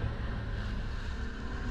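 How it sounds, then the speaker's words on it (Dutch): Wind blows steadily at a seaside resort, a constant low rush buffeting the microphone throughout with no talk. "Het waait."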